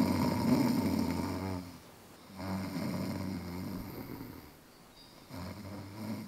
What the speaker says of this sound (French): Arrête de ronfler